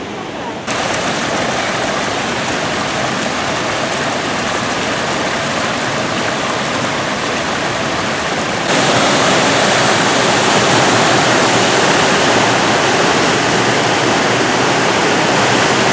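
A small waterfall in a Japanese friendship garden at Sportsman Park, Idaho Falls, rushes as steady, dense, hissing white water, close and loud throughout, growing slightly louder partway through.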